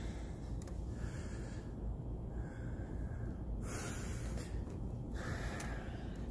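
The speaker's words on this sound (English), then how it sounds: "Controlling my breathing." After an aerobic workout, someone breathes heavily in repeated audible inhales and exhales with snort-like puffs, close to the mic and alone with no talking.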